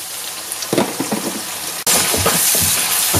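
Garlic and ginger fry in a pan for a Kerala-style fish pickle, giving a crackling sizzle with light stirring clatter. It cuts out briefly, then returns louder and steadier, with no talking.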